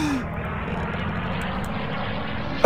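An airplane engine in Garry's Mod drones steadily and loudly throughout, with a sharp, sudden sound cutting in at the very end.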